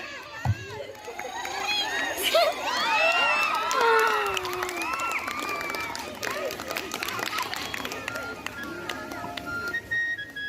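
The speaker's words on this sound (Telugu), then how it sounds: "క్లాప్స్ కొట్టాలి అంతే" Schoolchildren at a Sri Krishna festival at a ZPHS school cheer, shout and whoop together, with some clapping, in a loud, excited burst that swells and then settles into lively crowd noise.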